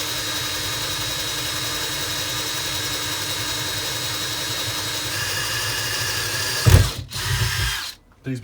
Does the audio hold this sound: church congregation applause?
no